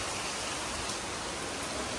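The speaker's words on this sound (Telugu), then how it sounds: "వర్షము ఇట్లా పడుతుంది అందుకే నీళ్ళు లోపలికి వచ్చినాయి" Steady, dense rain falling, a continuous broadband hiss with no pauses and no voices, fairly close and even in loudness throughout.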